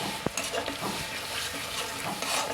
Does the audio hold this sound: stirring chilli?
yes